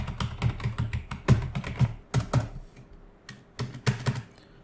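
Keys clack in quick, uneven bursts as someone types on a keyboard plugged into an iPhone 11, a close, dry run of taps with a few short pauses and no talking.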